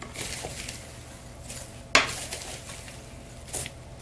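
A spoon mixes milk chocolate, toffee and pecans into hot popcorn in a bowl, giving quiet rustling and light clinks, with one sharp knock against the dish midway and a softer one near the end.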